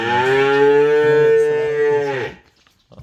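A cow lets out one long, loud mooing call lasting about two seconds, then falls quiet with a faint rustle at the end.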